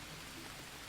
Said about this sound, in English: Wait for the rain to stop.